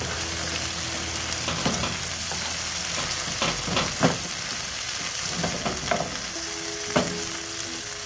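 Chickpeas and spinach with seasoning fry and sizzle in a pan, a constant hiss broken by repeated scraping and clinking strokes as a utensil stirs the mixture, with faint tonal sounds in the background.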